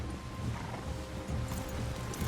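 Horses in Red Dead Redemption 2 stand near a river bridge at Strawberry, with faint hoof clops and snorting blending into a quiet, steady outdoor ambience, no talk.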